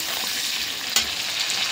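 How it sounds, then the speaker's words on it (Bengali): Crab frying in a pan gives a dense, continuous close sizzle with one brief clatter partway through, and no voices. "দেখো ভাজতে ভাজতে কিন্তু এরকম লাল লাল হয়ে আসবে কাঁকড়াটা"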